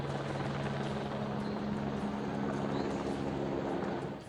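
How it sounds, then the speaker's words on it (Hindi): An army helicopter flies over the Rishi Ganga river, its steady rotor and engine drone sustained and moderately distant for a few seconds, fading slightly at the end. "ऋषि गंगा नदी के ऊपर रडार लेकर घूमता सेना का हेलीकॉप्टर।"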